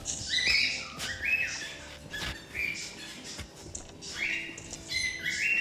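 Bright whistled chirps come in short bursts in a video game, rising and falling like birdsong, several phrases repeating over a faint murmuring background.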